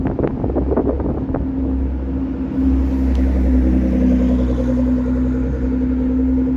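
A loud car engine rumbles close by, rising into a deeper sustained drone midway, with wind buffeting the microphone on a London street.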